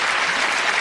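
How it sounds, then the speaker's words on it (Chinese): A studio audience on a Chinese job-hunting TV show breaks into a short, steady burst of applause, dense and even, with no talk over it. "请大家给我们可爱活泼的老师一个掌声好吗？"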